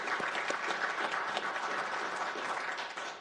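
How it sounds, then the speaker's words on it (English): An audience gives a round of applause at a city's State of the City presentation, steady dense clapping from many hands across the room, moderately distant, with no talk over it. "Will you just give them a round of applause?"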